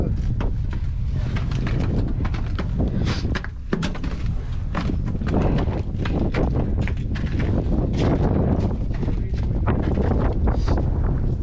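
Strong wind buffets the microphone on an icy mountain in Switzerland, a constant loud roar with irregular gusty thumps that run throughout, while people talk under it.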